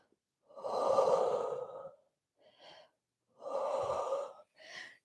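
Slow, deep breaths during a Pilates core workout: two long, loud breathy exhalations, each followed by a shorter, quieter intake of breath, close to the microphone with no talking.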